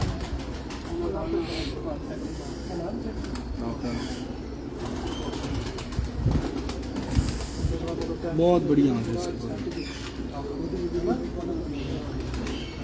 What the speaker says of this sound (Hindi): कबूतर है जी माशाल्लाह